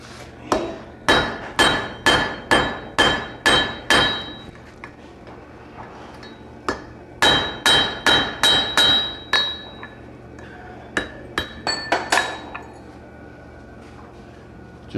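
Hammer driving a blacksmith's drift through metal held in a vise, loud sharp ringing blows in quick rhythmic runs of about six to eight strikes, separated by short pauses, with bright metallic ring after each hit.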